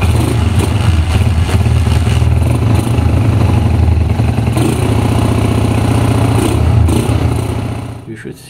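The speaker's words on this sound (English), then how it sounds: "Open the ignition switch and start to run the engine." A motorcycle engine runs loudly up close, a rough clattering idle with steady rhythmic pulsing that dies away in the last second; a voice is faintly present beneath it.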